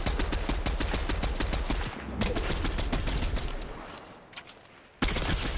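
Rapid bursts of video game shooter gunfire crackle loud and near in dense volleys, briefly thinning out before a fresh barrage erupts at the end.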